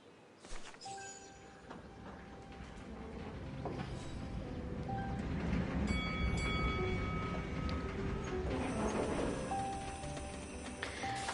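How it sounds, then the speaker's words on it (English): The Wagen tramway in Syberia: The World Before rolls along with a steady, low rumble and faint clanks and metallic ticks over a continuous mechanical bed, moderately quiet and without speech. "there's the famous Wagen tramway"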